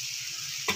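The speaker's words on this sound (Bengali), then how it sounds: "আস্তে আস্তে করে নাড়ালে মশলাটা কষে যাবে" Spice paste for a pabda fish jhal fries in oil with a soft, steady sizzle. A single quick stirring scrape comes near the end.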